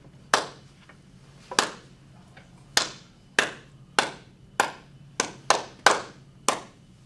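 A student claps a rhythm pattern in a classroom: about ten sharp, close hand claps in an uneven pattern, some spaced apart and some in quick pairs, with no talking.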